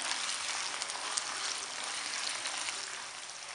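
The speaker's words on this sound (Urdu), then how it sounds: "بون لیس چکن ہے, اس کو اس میں ہم نے فرائی کر لینا ہے" Boneless chicken fries in a pan, a steady close hiss and sizzle that holds even throughout with faint crackles and no voice over it.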